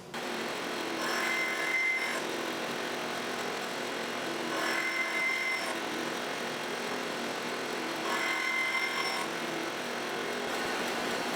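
Automated Accu-Slice system cutting thin wooden segment slices from a board, three evenly spaced whirring cutting passes with a faint whine, running continuously at moderate volume.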